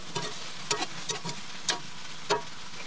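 Chopped garlic cloves and onions for a Zwiebelfleisch stew frying in a pan, a soft continuous sizzle broken by a few scraping stirs of a spoon, close by and fairly quiet with no talk.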